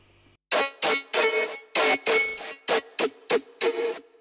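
A short, super-resonant synth lead plays in choppy bursts under LFO modulation. About ten loud stabs of uneven length follow each other in a rhythmic pattern, with silence between them.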